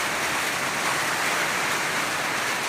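Steady, loud broadband hiss of heavy rain with wind pouring down over a cornfield, continuous and unbroken, with no voices.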